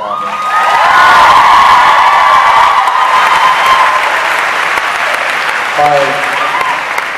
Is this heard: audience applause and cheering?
yes